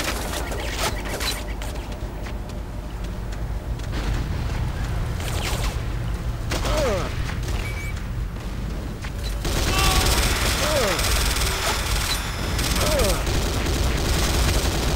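Gunfire in the video game C&C Renegade: repeated bursts of automatic fire and sharp shots, fairly loud and continuous through the battle, with game effects and a player talking over it.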